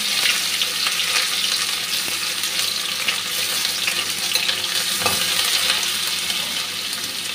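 Onions frying in oil with garlic give a constant, crackling sizzle, with occasional stirring scrapes, loud and close with no voices.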